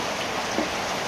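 Rain falls steadily, a dense close hiss with one faint drop-like tap in the middle and no voices.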